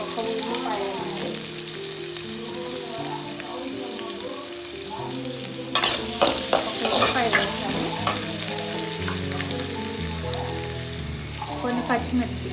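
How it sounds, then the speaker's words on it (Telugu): A chopped onion fries and is stirred in hot oil in a pan while tomato pachadi is prepared, with continuous sizzling and scraping spoon stirs beneath a person talking. "వడిని వేగిపోయినాక ఉల్లిపాయలు, ఒక ఉల్లిపాయ వేసుకుంటున్నాను."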